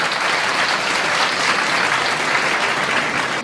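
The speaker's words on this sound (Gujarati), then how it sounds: "એકવાર જોરદાર તાળીઓથી રાજુભાઈને વધાવીએ." Loud, dense applause from an audience at a community honours ceremony welcoming Rajubhai, steady close clapping without pause for several seconds.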